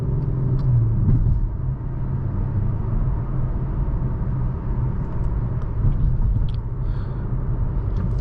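A 2023 Acura TLX Type S rolls across an intersection, its steady low road rumble and tire noise filling the cabin with a slight thump early on, continuous and fairly loud with no talking.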